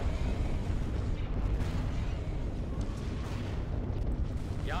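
Laser cannons blaze in a Star Wars Age of the Rebellion space battle, a constant dense roar of weapon fire and booming blasts that never lets up across the whole stretch.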